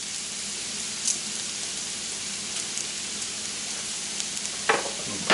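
Onions with a teaspoon of thyme sizzling steadily in a pan, a soft continuous frying hiss with a couple of faint scrapes near the end.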